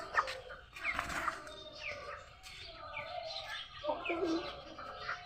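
Chickens cluck and chirp close by in short, uneven calls over a low background murmur.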